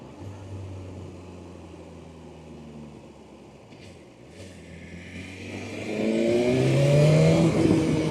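A sport motorcycle's exhaust drones at a steady cruise through wind rush, then swells into a louder, rising rev as the engine pulls harder near the end.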